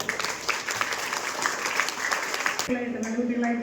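An audience claps for a teacher after an orientation class, a short burst of applause that fades out as a voice starts speaking.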